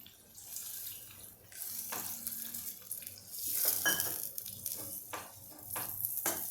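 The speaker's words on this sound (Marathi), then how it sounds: "अगदी थोडं पाणी मी घालणार आहे जास्त नाही" Water pours from a tap in a kitchen while a yam curry is being made, a soft splashing flow in irregular spurts, fairly quiet and without speech.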